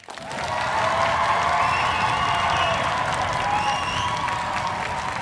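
A live comedy debate audience applauds and cheers as a vote for a winner, steady dense clapping mixed with whoops and shouts, loud and close, swelling after a quick start and holding throughout.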